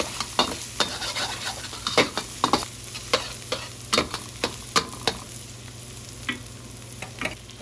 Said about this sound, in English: I'm going to go ahead and add our egg. I'm going to let that sit for just a minute to let it start to cook